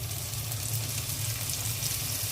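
Ginger garlic paste frying with onions in hot oil, a soft, steady sizzle that carries on evenly without a break.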